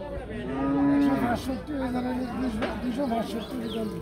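Cattle lowing at a village cattle market in Comilla, a long drawn-out moo near the start followed by shorter calls, heard close over background chatter and market bustle.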